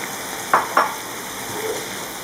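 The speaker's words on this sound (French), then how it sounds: "Là je vais rajouter les morceaux de champignons." Canned mushroom pieces drop into a frying pan with two quick soft thuds over a continuous low sizzle of hot oil, then the frying settles back to a steady hiss.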